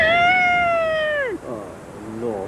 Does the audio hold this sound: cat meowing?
yes